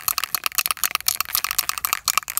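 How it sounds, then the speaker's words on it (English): A rapid, rattling shake of a small bottle of acrylic paint, rhythmic bursts of clicks and sloshing repeated steadily for a couple of seconds. "Now I will just shake my acrylic color"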